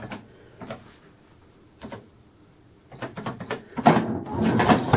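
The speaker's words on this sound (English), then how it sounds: "we get a receipt printout as standard" Sharp XE-A207 cash register printing a receipt: short buzzing bursts of the printer mechanism, sparse at first and then a denser, louder run of rapid chattering feeds near the end, heard close and alone.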